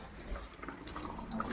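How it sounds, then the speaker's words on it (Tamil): Soapy water gushes from a just-opened valve on a toilet cleaning machine: a short, steady splashing flow, close and moderately quiet, with no talking. "முதல்ல சோப்பு தண்ணி வால்வை திறக்கிறேன்."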